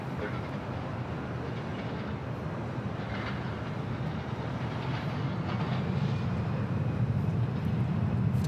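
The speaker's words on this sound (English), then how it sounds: "Got Lufthansa A380 now on final approach." A Lufthansa Airbus A380 on final approach at LAX gives a steady, broad low roar that swells slightly toward the end, distant and continuous with no voices.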